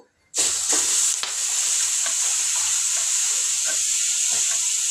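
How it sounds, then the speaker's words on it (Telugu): Green chillies, tomato and brinjal hit hot oil in a pan with a sudden loud sizzle that then hisses on steadily, broken by a few faint stirring clicks, close up and without talk. "పచ్చిమిరపకాయలు ఈ విధంగా వేయించుకోవాలి"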